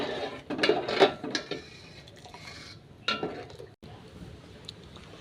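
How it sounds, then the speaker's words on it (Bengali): Spices stirred in a cooking pan with a utensil, giving a few scraping, clinking strokes against the metal, then quieter scraping with faint background noise. "এই যে এখন একটু ঘেটে দিচ্ছি"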